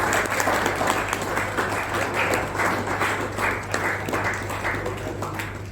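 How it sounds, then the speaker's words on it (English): An audience at a club conclave gives a round of applause, a sustained, even wash of many hands clapping with faint crowd murmur and a low hum beneath. "Big round of applause, please."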